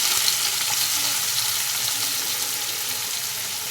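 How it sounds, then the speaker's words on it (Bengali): Chopped onion hitting hot oil with fried black cumin (kalonji) in a pan, a dense, even sizzling hiss throughout, close and steady, no voices. "এবার আমি কেটে রাখা পেঁয়াজ দিয়ে দেব কুচোনা পেঁয়াজ"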